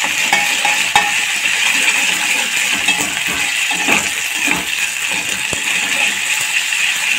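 Ginger garlic paste and curry leaves frying in hot oil for a mutton fat curry make a close, loud, steady sizzle, broken by a few sharp clinks of a spoon against the pan.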